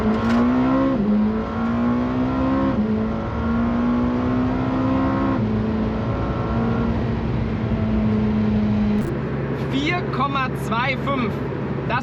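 A McLaren Senna with 800 PS, driven at night, accelerates hard from 100 to 200 km/h, its engine note climbing steadily through long pulls with brief dips at gear changes, loud and close, then dropping away near the end.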